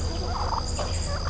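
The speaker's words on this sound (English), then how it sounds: "we've got 4 turkeys here" Turkeys gobbling on a ranch, a rapid warbling gobble rising over a steady hum in the background, close and fairly loud.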